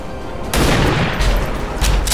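A gunshot from a soldier in the XCOM video game, a loud close blast with a booming tail, followed by a couple of further impact bursts.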